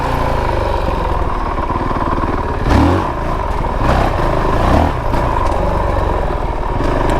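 A 2022 Honda CRF450RL dual sport motorcycle runs steadily on an off-road trail, engine droning loud and close with a couple of brief revs rising and falling midway.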